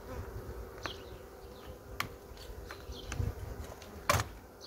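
Honey bees buzz around a hive frame during spring colony work, a faint steady drone with occasional closer passes and a couple of brief knocks or clicks.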